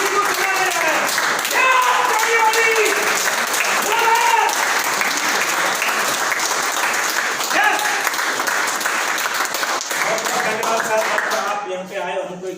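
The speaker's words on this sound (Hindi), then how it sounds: "जोरदार तालियां हमें भी लगना चाहिए" Loud, dense applause from a crowd fills the whole stretch, steady and sustained, with a voice briefly audible through it.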